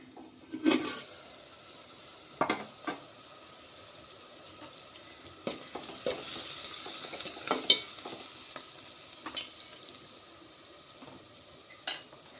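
Masala frying in a pan, a faint continuous sizzle broken by scattered sharp scraping and stirring clicks, recurring irregularly throughout with no voices.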